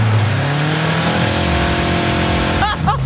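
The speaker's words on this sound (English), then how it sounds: "I'm going to hit the throttle and" Maverick off-road buggy accelerating hard at full throttle, a loud close engine roar with rising revs held steady, then a short gear-change blip near the end.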